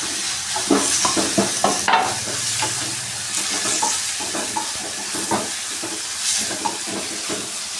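Curry leaves and tomato sizzle and fry in a pan for dal vegetable khichdi, a steady crackling hiss with irregular stirring scrapes throughout, no talking.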